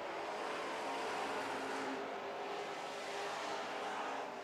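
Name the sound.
super trucks racing on the white flag lap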